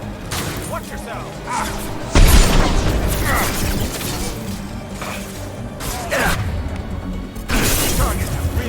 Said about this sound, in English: those things explode when they go off like a nuke